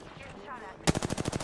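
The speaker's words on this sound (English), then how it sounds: "Getting shot at." Rapid automatic gunfire bursts out in a fast, even rhythm during an Apex Legends match, loud and close after a quieter stretch of game ambience.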